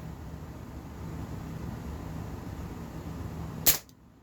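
Walther PPK/S 4.5mm CO2 BB pistol firing a single sharp pop near the end, close and crisp, after a stretch of quiet steady background noise, with the shot cutting off abruptly.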